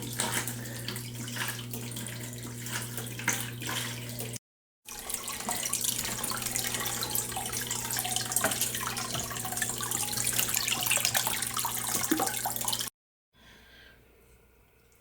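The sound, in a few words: water running while doing aquarium water change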